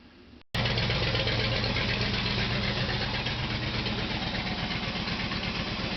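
A 1968 Shelby Cobra GT 500 KR engine fires up abruptly after a brief quiet moment and then runs with a loud, steady, rhythmic idle close by.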